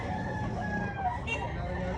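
A rooster crows amid the busy din of a Cebu City public market chicken expo, the crow rising over steady crowd noise and nearby voices.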